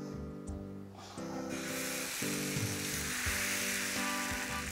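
Batter spreads into an oiled frying pan for chocolate baskets and gives off a steady sizzle that swells after the first second. A low electronic hum runs underneath, and no one speaks.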